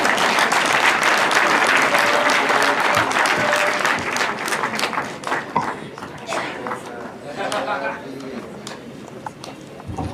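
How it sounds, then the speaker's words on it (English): An audience at the launch of an autism center applauds for a young man, a loud crowd of claps for about four seconds that thins out into scattered clapping and murmuring voices. "Let's clap for the young man."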